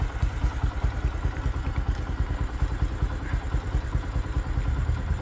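A motorcycle engine clatters and rumbles steadily nearby outdoors, a continuous mid-pitched chugging that stays fairly constant throughout without a clear approach or fade.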